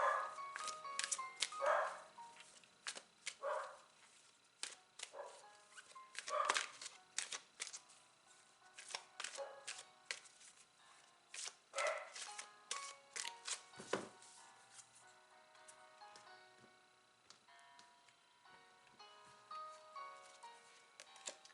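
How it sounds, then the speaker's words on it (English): Several dogs bark in short repeated bursts through a room, faint and somewhat distant, with scattered clatter between barks and no talking over them. "Please ignore my dogs, they bark at everything"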